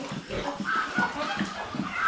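A mother pig and her piglets at a farm hut grunt and squeal in overlapping, close, fairly loud bursts, with no one talking.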